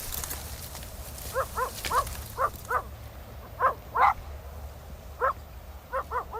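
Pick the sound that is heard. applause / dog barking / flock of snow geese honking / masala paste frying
dog barking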